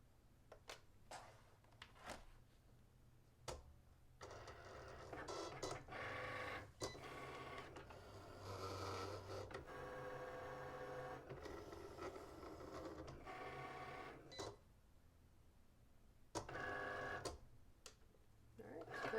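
A Cricut Explore Air 2 cutting machine runs through a cut, its motor whirring and buzzing steadily for several seconds between sharp clicks and taps, close by with little else around.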